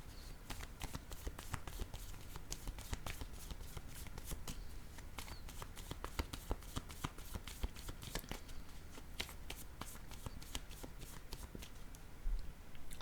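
Playing cards being shuffled, a long run of fast, crisp riffling flutters close by, repeating steadily with no talking.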